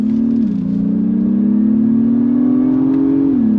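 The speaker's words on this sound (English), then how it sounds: "how this MDX Type S drives. On throttle, here we go." A 2023 Acura MDX Type S sport SUV accelerating under throttle, its engine giving a loud, steady drone from inside the cabin that rises in pitch, dips briefly, then climbs again.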